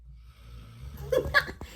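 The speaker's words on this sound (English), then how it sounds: "You might get a snore if you're lucky." Sprocket, a pet, gives a soft snorting snore close by, a faint low breathy rumble that rises into a brief nasal snort near the end.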